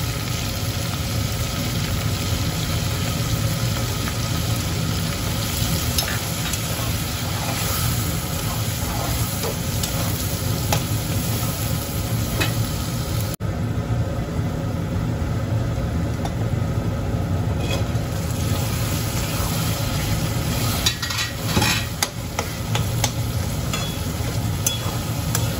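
Spices and ginger-garlic paste fry in a pan for a prawn dish with banana flower, a continuous close sizzle broken by scraping stirs over a steady hum.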